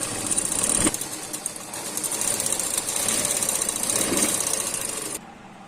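A sewing machine stitching the katori side of a one-piece blouse, running in a fast, steady chatter close by with brief shifts in pace before stopping abruptly near the end.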